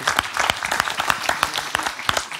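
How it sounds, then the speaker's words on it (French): An audience applauds after a panel on video game production, a dense burst of distinct, close handclaps with a lively, uneven rhythm that stays strong for the whole few seconds. "On peut les applaudir quand même."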